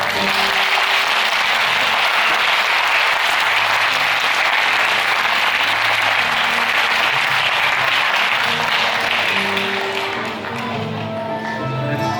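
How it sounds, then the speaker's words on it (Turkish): Strong, sustained applause from an audience at a Çanakkale martyrs commemoration program held at the Ensar mosque in Oudenaarde, dense and loud for about ten seconds before thinning out near the end. "Kendileri için kuvvetli bir alkış istiyorum"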